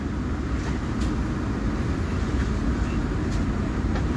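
Jayabaya economy train pulling into Tegal station at night, a steady, loud, low rumble of wheels and carriages that holds evenly throughout with no voices.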